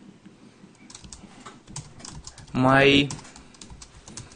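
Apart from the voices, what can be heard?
typing a command on a computer keyboard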